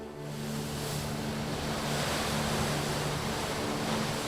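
Monsoon-driven waves of the Arabian Sea make a steady, broad roar of surf with wind noise, holding an even level from start to finish with no voices.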